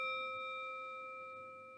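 A single meditation chime rung for a children's breathing exercise rings out clear and pure, its bright tone fading slowly in an otherwise quiet room.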